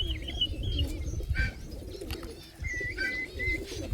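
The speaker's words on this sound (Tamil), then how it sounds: "இது நம்ம பறத்தி ரெக்க வெட்டி வச்சுருக்க புறா." A racing pigeon with clipped wings coos and chirps close by, giving several soft, throaty calls and brief higher notes with no voices over them.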